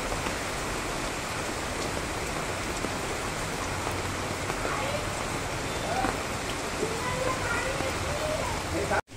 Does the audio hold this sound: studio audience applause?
no